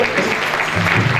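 Audience applause at a tribute gathering honoring a monk, steady clapping throughout with speech-like tones mixed in and a low hum underneath.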